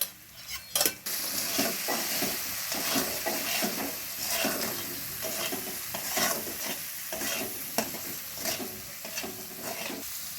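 Spices with salt, turmeric and a little sugar being stir-fried in a pan for banana flower curry, a sustained sizzle broken by rhythmic spatula scrapes and metal clinks, close and loud, with a heavy clatter near the start; no voices.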